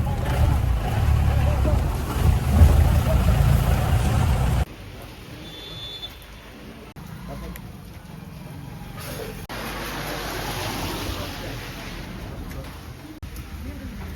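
Jeep engine rumbling on the road to Kudajadri, loud and close for the first few seconds, then dropping to a quieter, steady drone with occasional thumps.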